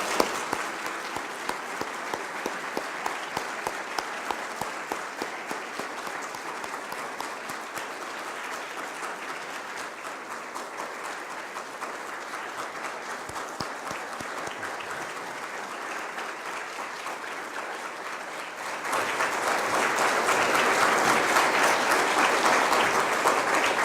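An audience applauds steadily for nearly twenty seconds to welcome speakers invited up to a dais, then the clapping swells louder and denser near the end, with no talk over it.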